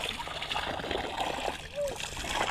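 Water splashing and sloshing in a forest stream, fairly faint and close, with irregular small splashes over a soft rushing background and a voice briefly audible.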